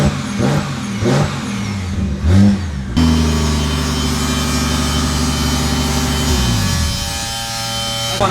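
A BMW E90 engine pulls hard on a warm-up lap, first a few revs between gears, then a long loud climbing acceleration with a whining gear tone that drops off near the end.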